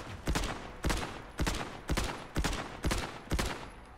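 A pistol fired repeatedly in the video game Fallout 4: seven loud, sharp shots at an even, unhurried pace, each followed by a short ringing tail, close and with no talking.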